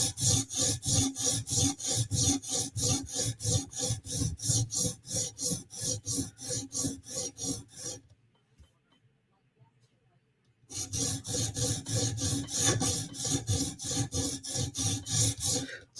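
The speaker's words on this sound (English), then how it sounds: "we're going to use an 80 grit stone to do this" Steel blade bevel ground back and forth on a coarse 80 grit sharpening stone, a steady rhythmic rasping scrape with regular strokes, close and loud, pausing briefly midway before resuming.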